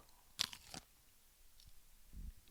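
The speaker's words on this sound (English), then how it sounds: "Were they like dried strawberries? Why are they so crunchy?" Frozen strawberries crunched between the teeth in a couple of sharp, close bites, followed by quieter chewing near the end.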